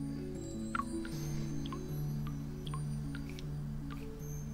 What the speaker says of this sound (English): Jeez, this faucet is broken.